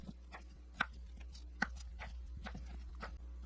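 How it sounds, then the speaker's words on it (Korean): Onion being sliced about 1 cm thick with a kitchen knife on a cutting board, heard as a handful of sharp, separate chops with an irregular rhythm over a low steady hum. "양파를 1cm 두께로 썰어주세요"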